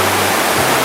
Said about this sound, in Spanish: Uno escucha la cascada.